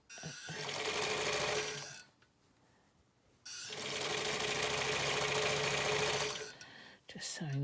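A sewing machine stitching bias binding onto a fabric face covering runs in two steady, close bursts of whirring, about two and three seconds long, separated by a quiet pause, with a few faint handling sounds at the end.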